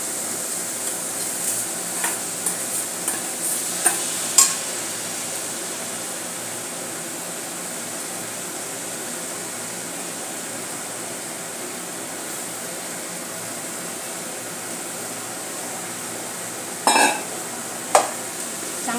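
Washed rice for masala rice is sautéed in a pan, giving a continuous soft hiss with occasional scraping stirs and utensil taps, fairly close and steady throughout.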